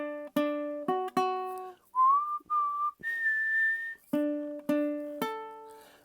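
A person whistles a short tune, clear melodic notes alternating with sung-sounding tones, close and fairly quiet, with brief pauses between phrases.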